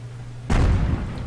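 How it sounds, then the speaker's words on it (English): Artillery shot from an M37 in World of Tanks: a single sudden deep boom cutting in after a quiet hum, with a rumbling tail that lingers. "That would be artillery, that would be the M37."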